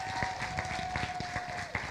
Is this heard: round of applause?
yes